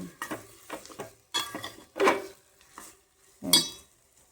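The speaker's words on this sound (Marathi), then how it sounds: "असं परतून घ्यायचं तेलामध्ये कमी गॅसमध्ये" Potatoes being sautéed in oil over a low flame in a pan for a potato amti, with intermittent stirring scrapes and utensil clinks against the pan at irregular intervals.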